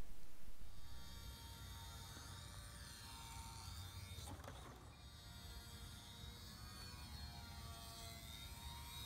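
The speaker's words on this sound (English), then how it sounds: "let's take a look at the test flights I did with this lower motor" Electric motor of a Guillows Zero RC model plane in flight, a steady whining drone with a slightly louder start and a brief swell of pitch midway, heard from a distance throughout.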